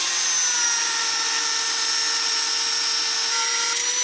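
A power tool cuts a metal plate for a homemade cricket bowling machine, giving off a continuous high-pitched whining grind that holds steady and loud throughout.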